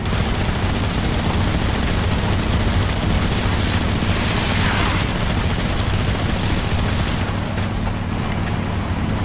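A steady roar of distant gunfire and explosions in a Metal Gear Solid Delta: Snake Eater battle, dense and unbroken, blending into a constant rumbling wash with no clear individual shots.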